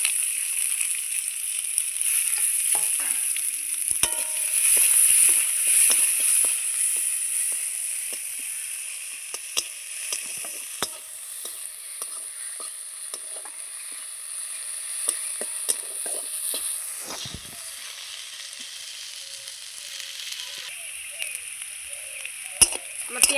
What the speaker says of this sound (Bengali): আমার পেঁয়াজটা লাল লাল করে ভাজা হয়ে গেছে